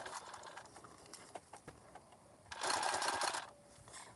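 A sewing machine runs in a steady burst of rapid stitching partway through, sewing a water bottle carrier bag along a line of stitching, preceded by quieter handling and fabric shuffling nearby.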